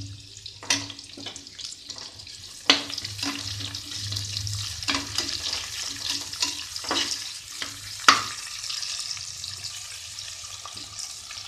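Sliced onions sizzle in a pan while a utensil scrapes and stirs at irregular intervals, with a couple of louder knocks; no one speaks.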